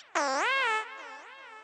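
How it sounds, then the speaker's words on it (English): A short, bright, warbling electronic cry, rising then wobbling down in pitch, like a cartoonish baby squeal from a game, alone and close. "That's actually the sound of the babies, right?"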